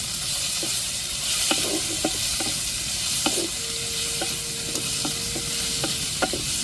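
Drumsticks sautéed with tomatoes and chillies in a pan for a Champa kooni shrimp curry give a steady, close sizzle, with irregular spoon-scrape clicks and knocks from stirring throughout.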